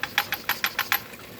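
The weight on a pressure canner full of quart jars of raw chicken jiggles in rapid, evenly spaced hissing puffs, about six or seven in just over a second, close and steady over a low background hum.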